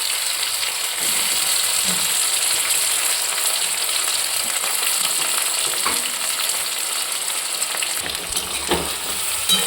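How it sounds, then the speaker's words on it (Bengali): Garlic frying with onion and caramelised sugar in a pan for a chicken dish, a loud continuous close sizzle with occasional stirring scrapes, no talking. "তারপর এটা পেঁয়াজের সঙ্গেই ভালো করে ভাজতে হবে"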